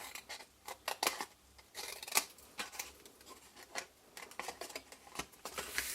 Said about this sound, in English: So you need to cut straight down the rectangle and wedge into the square.